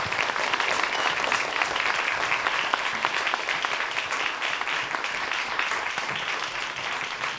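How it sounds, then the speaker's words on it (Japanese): Sustained audience applause greets an architecture lecturer in a hall, a steady dense wash of many hands clapping throughout with no voices over it. "皆様大きな拍手でお迎えください。"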